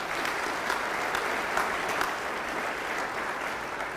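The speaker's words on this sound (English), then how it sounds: "Can we give them a round of applause?" A sustained round of audience applause at a county State of the County address, a thick even wash of many hands clapping at steady loudness from start to finish.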